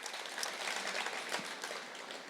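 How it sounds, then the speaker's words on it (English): Crowd applause at an outdoor March for Life rally in Brisbane, a dense, steady wash of many hands clapping at once, sustained and fairly loud throughout with no voices over it. "let's give him a huge round of applause"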